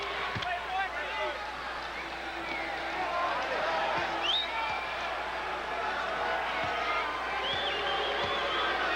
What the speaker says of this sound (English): The crowd does not like it